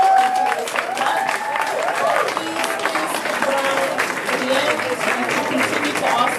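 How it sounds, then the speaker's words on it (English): An audience applauds a panel after a talk, with dense continuous clapping and overlapping voices chattering and calling out underneath throughout. "Can everyone please give a round of applause to the panel?"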